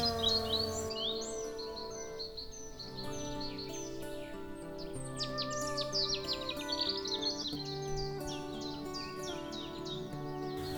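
Birdsong fills a wetland beside the Semois, with many overlapping chirps, trills and whistles running continuously, lively and fairly close with a soft insect-like hum beneath.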